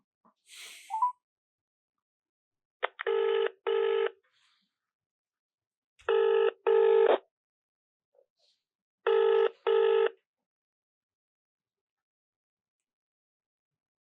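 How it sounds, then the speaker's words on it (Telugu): A telephone call being placed: three bursts of paired dial or ringback tones, evenly spaced at about three-second intervals, clear and alone in near silence. "నేను కాల్ చేస్తున్నాను ఆ జాతకం ఇచ్చిన వాళ్ళకు."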